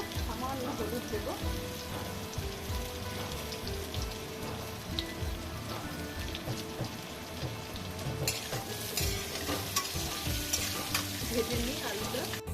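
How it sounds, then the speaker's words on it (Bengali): Salt-boiled potatoes and young jackfruit fry in a pan of oil with a steady, close sizzle, while stirring adds scattered crackles and scrapes throughout. "করে রাখা আলু আর এঁচড় একে একে ভেজে নিচ্ছি।"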